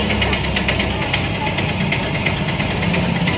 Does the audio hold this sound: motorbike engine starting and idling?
yes